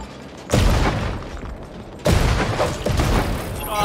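Two loud grenade blasts in the Creative Destruction shooter game, the first around half a second in and the second about a second and a half later, each followed by a rumbling tail and scattered gunfire-like crackle.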